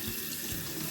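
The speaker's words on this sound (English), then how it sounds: "Turn the water off." A kitchen or bathroom tap runs steadily, water splashing into a sink close by in a short, continuous burst with no talking.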